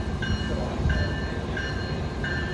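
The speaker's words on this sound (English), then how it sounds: "here comes a South Chicago bound train" A Metra Electric commuter train rolls into Van Buren station in Chicago with a steady rumble, and a repeating high electric whine or bell tone sounds about every two-thirds of a second.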